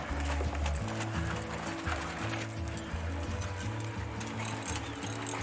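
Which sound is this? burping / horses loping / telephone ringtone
horses loping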